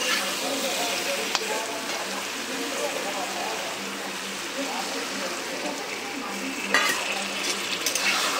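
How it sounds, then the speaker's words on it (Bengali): Potatoes sizzle in spice masala for Bengali aloo kalia as a steady frying hiss with stirring scrapes and a few sharp utensil clicks against the pan. "আলু মশলা কষে আলুটা দিয়ে দিয়েছি"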